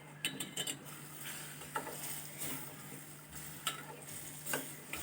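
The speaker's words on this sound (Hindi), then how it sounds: "अब मैं इसे भून लूँगी।" Shan achar gosht masala mixed with yogurt frying in a pot, a soft low sizzle under intermittent scrapes and clinks of a spoon against the pan, close and quiet.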